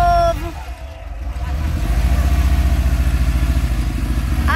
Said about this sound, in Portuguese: Partida dos motores.